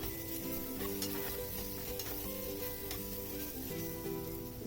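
BBQ keema frying in a pan, sizzling steadily throughout while being stirred and mixed, with faint scrapes and clinks of the utensil against the pan; no talking.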